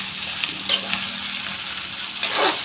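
Squash and string beans being sautéed in a small pan, giving a soft, steady sizzle with a few light clinks of a utensil against the pan, close by and with no talk.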